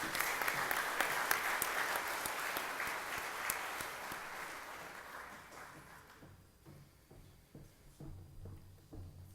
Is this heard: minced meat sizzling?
no